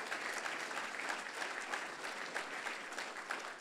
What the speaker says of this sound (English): Please, a round of applause for all our donors.